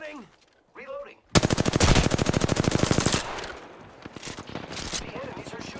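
Rapid automatic gunfire in Apex Legends, a loud sustained burst of several seconds with dense evenly spaced shots, followed by scattered further shots at lower level, with brief voice-like sounds before the burst.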